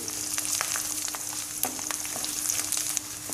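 Halved garlic cloves fry in a pan for a bitter gourd pickle, giving a steady close sizzle with scattered crackles and the occasional scrape of stirring, with no voices.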